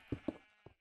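Three short sheep bleats from the video game Minecraft, quick and close together, clear and fairly quiet.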